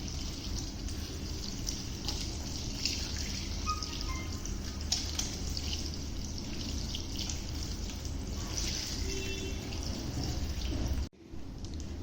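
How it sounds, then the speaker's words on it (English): Water poured over the head while washing bonded hair, a continuous close splashing and trickling flow that stops abruptly near the end. "Just pour water on the head."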